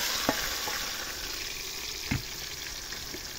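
Tomatoes and green chillies fry in a pan over a wood fire in a village setting, a faint steady sizzle with two brief knocks of a spoon against the pan.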